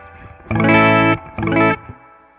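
A Gibson Les Paul electric guitar played dry, two loud strummed chords with a slight gap between them, each ringing briefly and cut off, with no one talking.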